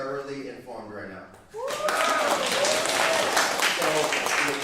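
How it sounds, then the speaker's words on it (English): Audience at the ACLU Wisconsin annual meeting breaks into sustained, loud applause right after a speaker's voice, the clapping continuing steadily to the end. "How about another round of applause if you are thoroughly informed right now?"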